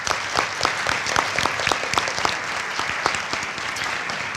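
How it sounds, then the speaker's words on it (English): An audience claps steadily at a conference general session, many hands at once with distinct sharp claps, sustained throughout at moderate volume. "let's give them a round of applause"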